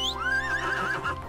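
Horse in the ArcheAge video game giving one loud, close whinny that rises and wavers before trailing off, about a second long.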